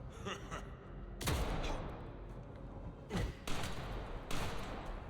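Shotgun blasts in the video game Vampire: The Masquerade - Bloodlines 2, three heavy booming shots spaced over several seconds, each with a broad burst and short decay above a rumbling game background.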